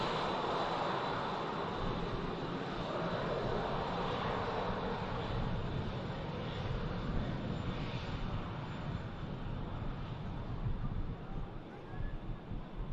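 An ATR turboprop airliner on short final approach at Manchester Airport gives a steady, broad engine roar that holds nearly even throughout, with a slight swell near the end and some wind buffeting.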